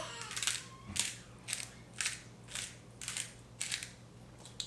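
A pepper grinder twisted over a cutting board while seasoning chicken makes about eight crisp, evenly spaced ratcheting crunches over a low steady hum, close and fairly soft.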